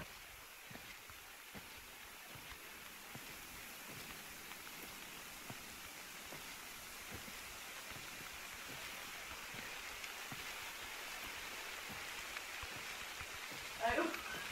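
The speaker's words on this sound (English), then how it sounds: "the rain will help cover up my footsteps at least" Steady rain falls in the hunting game theHunter: Call of the Wild, a soft continuous hiss with scattered drops throughout, quiet and unbroken.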